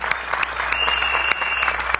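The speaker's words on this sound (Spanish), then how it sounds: "Un aplauso" Crowd applause at a Venezuelan political broadcast event, a dense, steady clapping of many hands sustained for the full two seconds at close range.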